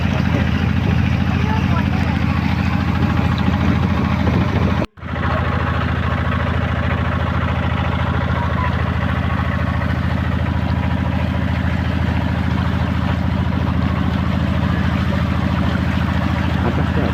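A river boat engine drones steadily and loudly up close on the Jayanta river as the boat pulls away. The rumble drops out for a split second, then resumes unbroken with no voices.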